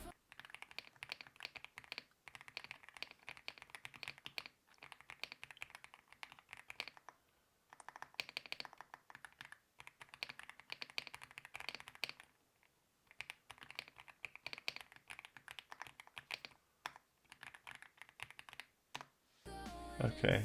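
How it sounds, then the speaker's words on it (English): Fingers type on a wireless computer keyboard, light rapid key clicks in close, quick bursts separated by brief pauses, ending with a short louder burst at the end. "so a bit of typing here, so I'll keep quiet for a sec."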